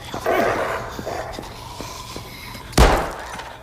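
A dog barks in the VR video game Arizona Sunshine 2, with a loud bark burst near the start, then a sharp slam-like thud later, over low game ambience.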